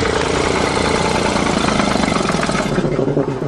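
Chevy 427 gas engine in a dump truck idles loud and close after a cold January start, a rough pulsing rumble that starts to falter and fade toward the end.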